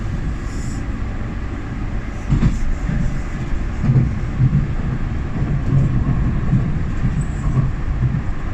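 A Greater Anglia train rushes past at speed, a loud, close, sustained rumbling roar with rhythmic wheel clatter that swells partway through and stays heavy to the end.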